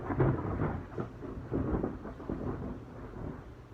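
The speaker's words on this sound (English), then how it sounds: "it's thundering a lot" Thunder rumbling through a storm, with loud, deep rolling booms that swell and fade in waves and light rain underneath.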